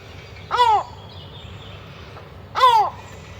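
Two loud, harsh bird calls just outside a city apartment window, each about a quarter second, spaced roughly two seconds apart over a low steady urban hum.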